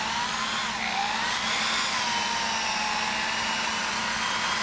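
A power drill spins a polishing wheel against the finish on a stave-built drum shell, giving a steady, loud whirring drone with a high motor whine that holds for the whole stretch without pause.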